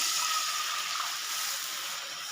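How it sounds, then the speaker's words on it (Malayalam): Two cups of milk pour in a steady, hissing stream into a pan with butter for chocolate pudding, close by, with no voices. "രണ്ട് കപ്പ് പാൽ ഒഴിക്കാം"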